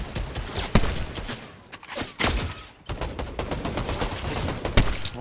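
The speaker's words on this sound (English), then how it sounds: "he actually fucking hit me with that sniper" Repeated gunfire bursts in Fortnite, including sniper rifle shots, crackling in loud spaced volleys with sharp cracks near the start and end, amid steady in-game ambience.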